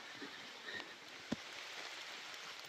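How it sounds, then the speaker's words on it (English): Rain falls on the forest canopy above a backpacking trail in Savage Gulf, Tennessee, giving a faint, even hiss with one brief nearby tap. "It's raining pretty good. This canopy's keeping us somewhat dry though."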